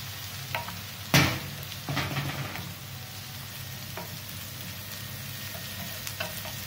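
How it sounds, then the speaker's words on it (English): Quiet frying sizzle of sliced chorizo in a pan with a few sharp pops and a stirring clatter, no voices. "Sizzle, sizzle, pop,"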